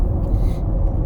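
Road traffic rumbling past at close range, a steady low roar of passing vehicles with no speech over it.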